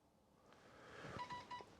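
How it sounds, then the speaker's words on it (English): An iPhone gives a short, faint electronic beep after a message is sent through Apple CarPlay inside a parked 2019 Mitsubishi L200 pickup, a few quick tones over quiet cabin hum. "So there you heard my phone beep."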